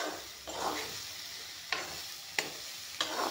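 Brinjal and peas fry in a pan with a soft, low sizzle, quiet and close. Several quick stirring scrapes of a spatula come at a steady pace. No one speaks.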